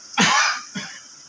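Two coughs from one person, a strong harsh first cough followed by a softer, shorter second, close by with no talk.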